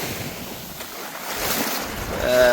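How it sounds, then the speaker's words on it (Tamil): Sea waves washing onto the shore at a beach where fishermen work, a continuous rushing surf with wind buffeting the microphone and swelling louder toward the end. "இதுதான் கடல் அது இதுதான் கரை"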